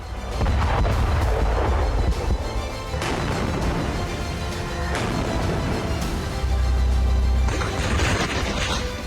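Israeli strikes on northern Gaza, from Jabalia to Beit Lahia, produce continuous low rumbling with repeated heavy booms and blasts, dense and roiling throughout.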